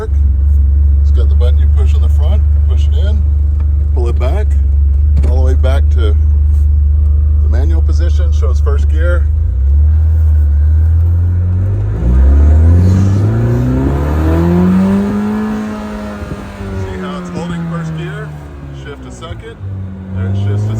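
A Vanderhall Carmel's engine climbs in pitch as it accelerates, drops sharply as it shifts up to second, then shifts back down to first, a loud, close, continuous drone with a voice talking over it.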